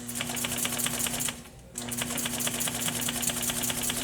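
A sewing machine stitches a box cushion in a fast, even mechanical patter, pausing briefly midway before running on steadily.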